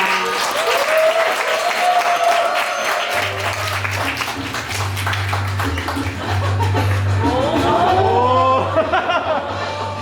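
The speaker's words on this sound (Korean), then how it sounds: "큰 박수로 맞이해주시기 바랍니다" Loud, sustained applause from a large audience welcoming a speaker to the stage at a book presentation event, dense clapping throughout with some chuckling and crowd murmur, a low hum underneath and a brief tonal sweep near the end.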